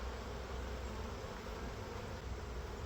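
Honey bees from a freshly caught swarm fill the air with a dense, continuous buzzing hum, many wings droning together up close without a break.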